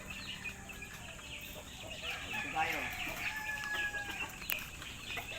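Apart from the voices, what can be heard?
chickens clucking on a farm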